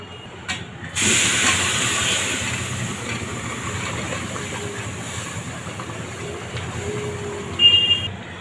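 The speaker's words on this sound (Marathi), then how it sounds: "आता मी याच्यात ते पाणी ओतून घेते" Boiling water pours into coarse semolina for lapshi, a steady close hissing rush that runs for several seconds, with no talk.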